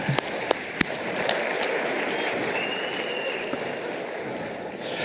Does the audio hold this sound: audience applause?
yes